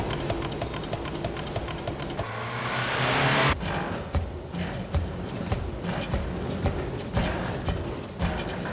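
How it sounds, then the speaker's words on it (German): A 1967 BMW on a test drive, a steady rumbling engine and road noise heard close, with a brief rushing swell partway through. "dass der BMW auch bei 120 Stundenkilometern nicht ausbrach"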